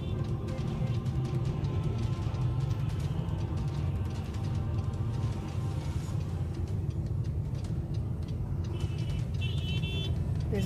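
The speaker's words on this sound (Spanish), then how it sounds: "Un tapón demasiado fuerte, el semáforo está dañado." Heavy road traffic jammed at a broken traffic light on Av. México, a constant dense rumble of idling and creeping vehicles with faint ticking and occasional higher tones, no talk.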